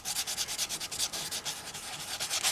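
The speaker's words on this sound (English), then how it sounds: "and I'm sanding over it" Rhythmic, fairly quiet hand sanding of spackle over small nicks, the rasping strokes repeating back and forth at an even pace.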